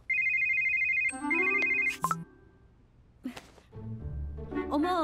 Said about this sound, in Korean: 누리랑 딸기 얘들은 왜 전화를 안 받아